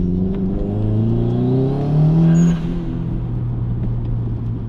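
A Subaru Impreza blobeye's engine rises in pitch as the car accelerates through a gear, then settles into a steady lower drone, heard from inside the cabin with no voices.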